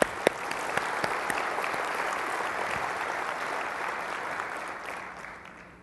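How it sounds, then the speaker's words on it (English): Conference attendees at a MySQL gathering break into broad, steady applause after a few sharp opening claps, the clapping holding strong before tapering off at the end. "giving them a round of applause for this wonderful contribution"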